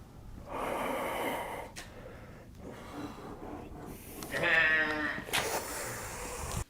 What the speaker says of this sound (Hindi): ये आवाज भी नॉर्मल बकरे की आवाज नहीं थी